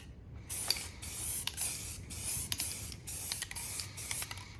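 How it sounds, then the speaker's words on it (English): Aerosol spray paint being applied to a plastic part, several close hissing bursts of a few tenths of a second to a second each, separated by brief gaps, with faint rattles of the can between sprays. "something about spray paint on plastic, you might have to do more than one coat here"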